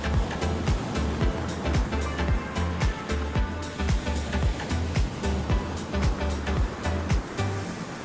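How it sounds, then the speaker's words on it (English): Ocean surf at Lands End on the coast, loud and close, with waves crashing and washing in a steady rolling rhythm for the whole stretch, alone with no voices. "The ocean opens wide, stretching endlessly, and the sound of waves all around."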